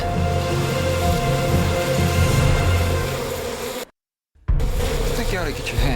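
Bees buzz loudly and continuously close by, a dense droning hum that runs steadily, cuts out to silence for a moment, then returns just as strong.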